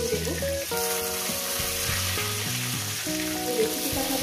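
Rohu fish pieces frying in hot oil with a steady, dense sizzle throughout, close and even, while faint tonal background music plays underneath.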